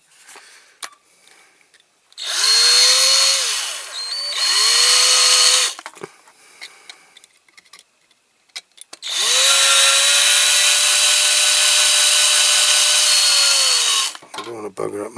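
A power drill with a fresh drill bit bores into metal during a small Ford Transit van restoration, in two short bursts then one long steady run, loud and close, each start winding up and ending with a spin-down.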